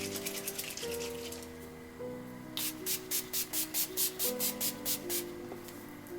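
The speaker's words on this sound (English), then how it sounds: "I'm going to take the NYX Matte Finish Long Lasting Setting Spray and I'm going to set my face" Quick bursts of NYX Matte Finish setting spray hiss in a rapid series of about ten pumps, close and fairly loud over soft background music.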